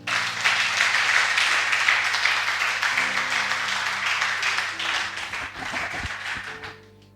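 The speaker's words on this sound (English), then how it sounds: "Clap." Sustained applause from a church audience at a deliverance service, dense and steady for several seconds before thinning and fading out near the end.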